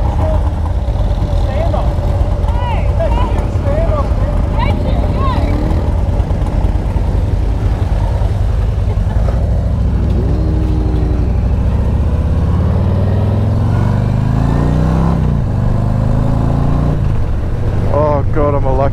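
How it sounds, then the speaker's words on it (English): Motorcycles ride a country road between Bylong and Sofala in Australia, their engines droning loud and steady, rising and falling in pitch as they accelerate, while people talk over the noise. "God, I love these bikes."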